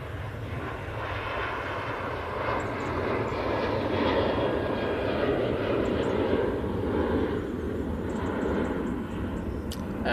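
A Ryanair jet airliner rolls down the runway on its takeoff run at Manchester Airport, a steady broad engine roar that holds loud and continuous throughout, with no other sounds standing out.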